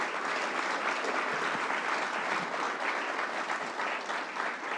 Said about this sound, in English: How about a round of applause for our great governor